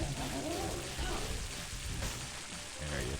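Steady crackling sizzle of tears striking flames in The Binding of Isaac, a continuous hiss under game sounds with a voice talking faintly over it.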